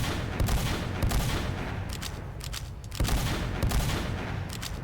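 Back Scatter scattergun from Team Fortress 2 firing in bursts, dense loud blasts with shell-like clatter repeating across the span, no talk over it.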